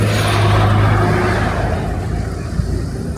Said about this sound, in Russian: Шум от проезжающих машин большой